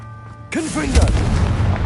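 Confringo blasting spell in Hogwarts Legacy, a sudden loud boom that erupts after a brief quiet moment, with a rumbling blast tail and a shouted voice over the start.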